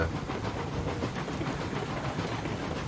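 Eureka steam locomotive hauling a train through hilly country in a railway video game, a steady rumbling chug and rolling clatter that holds even and close throughout.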